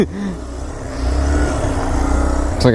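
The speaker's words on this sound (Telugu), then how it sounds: "కొంచెం రేవ్ చేయి అన్న, కొంచెం రేవ్ చేయి." An off-road motorcycle's engine revs steadily on a trail, a loud, close, droning roar that rises partway through and holds there.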